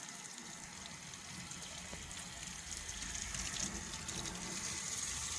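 Cold water running from the tap of an instantaneous water heater, a soft, steady gushing stream that builds slightly and stays fairly faint, with no voices.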